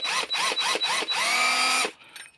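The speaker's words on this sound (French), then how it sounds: "Donc la perceuse." A Parkside cordless drill with a 2 Ah battery, revved in four short bursts and then held in a longer whine before stopping, loud and close with no voices.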